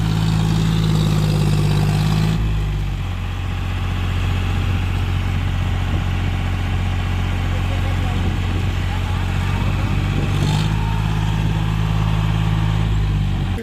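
A tractor engine runs close by with a steady low throbbing idle and a continuous rumble, its tone dipping briefly and then returning, while no clear speech rises above it.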